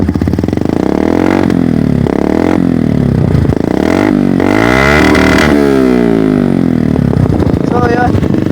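Loud, close motorcycle engine running without a silencer, open exhaust blaring as it revs up and down in repeated rising and falling sweeps, with a person talking over it.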